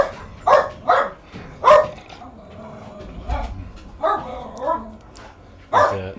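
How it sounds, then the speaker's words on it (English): Dogs bark and yip in short, scattered bursts while playing outdoors in the morning, several loud nearby barks with quiet gaps between them. "The dogs are having a good time this morning playing."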